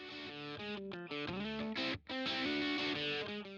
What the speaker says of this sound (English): this is a distortion pedal that is borderline a fuzz pedal